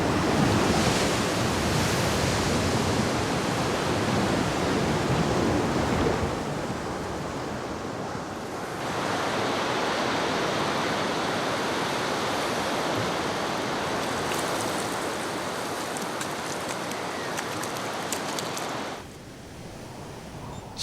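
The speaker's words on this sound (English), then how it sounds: "For the squalls that whip up the sea as if urging the waves to play even louder." Loud sea waves and gusting wind on remote Stewart Island in the South Pacific roar as a broad, continuous wash. The sound dips briefly midway and drops to a quieter rumble near the end, with no voices.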